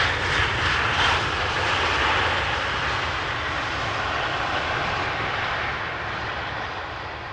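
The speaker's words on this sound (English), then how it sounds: "Emirates A380, slowly but surely getting closer by to the center runway." An Emirates Airbus A380 on approach to Amsterdam Schiphol's center runway gives a steady, loud broadband engine roar that slowly fades as it passes, with no talk.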